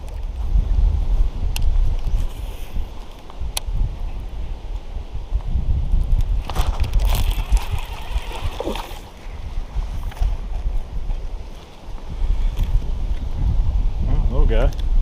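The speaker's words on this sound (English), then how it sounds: "So windy right here." Wind buffets the microphone while fishing from a boat during the spawn and post-spawn season, a continuous rough low rumble that swells and eases, with someone speaking at times and light water and boat noises.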